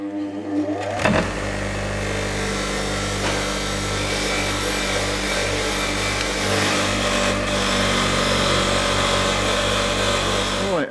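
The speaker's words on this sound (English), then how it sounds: "I'm just going to clean this injector up, get all this crap off it using the wire wheel." A wire wheel whirs continuously while cleaning grime off a diesel fuel injector from a leaking seal on a Ford Mondeo, a loud steady grinding hum with rubbing scrapes, close and without talk.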